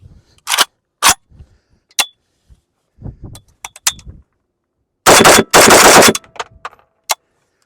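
An AK-74 rifle fired outdoors, with single sharp reports followed by two loud sustained bursts of rapid fire, interspersed with handling clicks and clinks.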